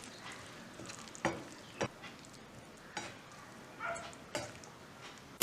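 Ingredients for tawa chicken being sautéed with a squeeze of lemon, a faint low sizzle under a handful of sparse, distinct scrapes and clinks from stirring, quiet overall with no talk.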